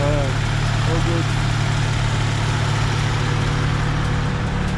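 A Honda Accord engine idles close by in a steady, loud, even drone with no change in pitch, and a brief faint tonal sound comes in near the start.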